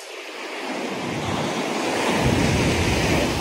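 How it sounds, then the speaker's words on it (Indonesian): Steady roar of ocean surf washing in on a Bali beach, broad and continuous, with a gusty wind rush building slightly louder toward the end. "Karena ada suara ombak."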